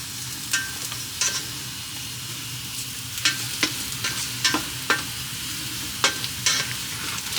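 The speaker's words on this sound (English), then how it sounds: "so I put mushrooms inside and stir fry" Potato and mushrooms stir-fry in a pan, giving a steady close sizzle broken by sharp scraping clacks as a utensil stirs and turns them at irregular intervals, with no talk.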